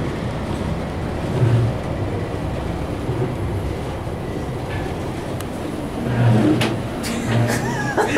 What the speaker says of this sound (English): The famous ATL traffic.